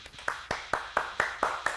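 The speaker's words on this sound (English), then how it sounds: "Everybody clap." Group clapping in unison at a livestreamed anniversary event, eight sharp evenly spaced claps roughly a quarter second apart, crisp and moderately close with no talking.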